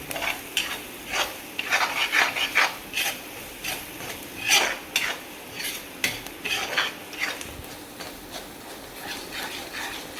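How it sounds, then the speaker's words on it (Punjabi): A spoon stirs spices with Kashmiri red chili in hot oil for tempering an aloo baingan curry, scraping and clinking against the pan in irregular strokes over a soft sizzle, close and moderately quiet. "ਇਹਨਾਂ ਨੂੰ ਹੁਣ ਆਪਾਂ ਵਿੱਚ ਪਾ ਦਿੰਨੇ ਆ ਤੜਕੇ ਦੇ ਹੁਣ ਆਪਾਂ ਚੰਗੀ ਤਰ੍ਹਾਂ ਹਿਲਾ ਦਾਂਗੇ"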